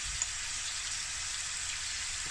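Kimchi, meatballs and tofu simmering in a pot, a steady soft sizzling hiss with a fine crackle like light rain, continuous and fairly quiet.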